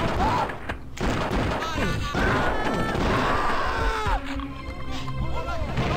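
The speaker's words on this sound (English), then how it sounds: "Yeah, I broke the glass too." Glass smashes in a violent first-person shooter, loud crashing and thwacking impacts mixed with game effects and screams, with a player talking over the action.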